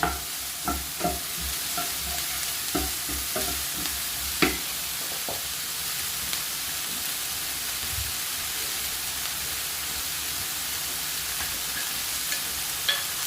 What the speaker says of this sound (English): I'm just sweating off the veg a bit